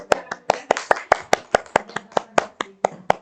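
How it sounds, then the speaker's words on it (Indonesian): An audience applauds during a numeracy literacy workshop, with about fifteen sharp, evenly spaced claps over a few seconds, crisp and close. "Ya, aplaus dulu."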